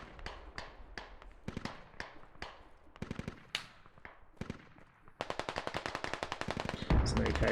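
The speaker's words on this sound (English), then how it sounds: "That's an AK if ever I've heard one." AK rifle gunfire in the video game Squad: repeated sharp single shots and short bursts, then a long rapid automatic string near the end, loud and close with a faint voice underneath.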